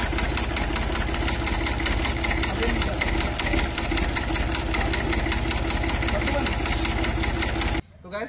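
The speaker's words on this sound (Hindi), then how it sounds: "फाइनली मैंने ट्रैक्टर चला लिया" A tractor engine runs steadily up close on a village outing, a continuous droning rumble with rhythmic knocking, cutting off abruptly near the end.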